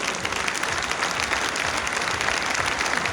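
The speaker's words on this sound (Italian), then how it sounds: "è per lui che chiedo l'applauso più grande, per Zio Bernardo" Audience applause at the Moda di Maggio fashion event in Sassari, a dense, steady wash of many hands clapping together, loud and continuous throughout.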